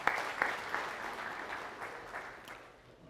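Applause from an audience at a guest speaker talk, a brief burst of clapping that fades away over a few seconds.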